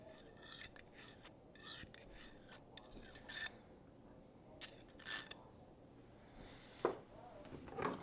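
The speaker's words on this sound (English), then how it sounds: "Let's get my pick. See if we can fish some of that out." A metal pick scrapes grime from inside an FX Panthera air rifle, faint intermittent rasping and scratching strokes heard close in a quiet room.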